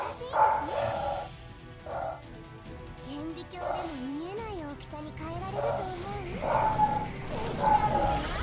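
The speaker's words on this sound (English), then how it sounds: "I don't know why those dogs are barking." Dogs bark in short repeated bursts with a few yips in the background while people talk over a card game, the barks rising and falling throughout.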